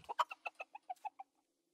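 A series of about eight short, evenly spaced chicken clucks from a video game, close and clear, trailing off into silence.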